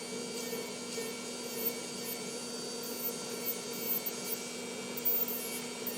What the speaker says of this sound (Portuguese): eu venho com a minha lixa elétrica e vou passando, tirando mais produto aqui da lateral